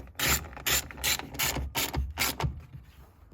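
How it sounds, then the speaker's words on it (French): A ratchet wrench clicks in quick bursts while turning on a Renault Twingo engine cylinder, about eight close, crisp runs of clicking with short pauses, no talking. "La clé elle va pas trop mordre sur un cylindre."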